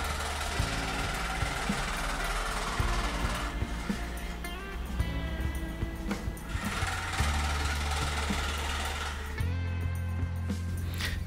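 A scroll saw cuts through a piece of ebony for a baritone guitar heel, its motor humming with a rapid reciprocating buzz that shifts in pitch as the blade works, steady and close with brief changes in load.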